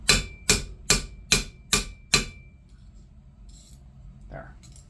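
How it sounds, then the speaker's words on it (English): A hammer crimps 18 gauge copper wire into a heart shape with six sharp, evenly spaced metallic taps, followed by quiet and a faint sniffle. "I'm just going to hammer crimp that back into place."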